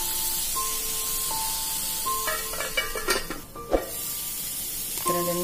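Chopped ivy gourd (kovaikai) sautéing in a pan for chutney: a steady, even frying hiss throughout, with faint melodic tones playing in the background and a brief clatter midway.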